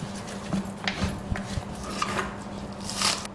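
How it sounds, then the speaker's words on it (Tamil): A knife chops celery on a cutting board in a few irregular, sharp taps over a low steady hum. "இந்த செலரியை வந்து நம்ம பொடி பொடியாக நறுக்கி வச்சுக்கலாம்"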